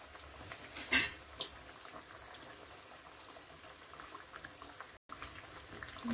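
Cabbage and moong dal vadas fry in oil in a small pan, giving a steady soft bubbling sizzle with a brief louder crackle near the start, close and fairly quiet, with no talking.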